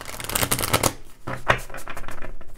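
A deck of cards is riffled and shuffled up close, a rapid flurry of papery flicks, a brief pause, then more quick riffling.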